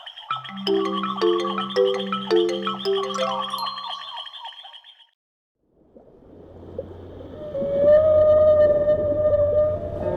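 Deep, slow blue whale vocalization, a long low drone under tonal calls that rise and fall, following a short silent gap after an opening stretch of layered, rhythmic music.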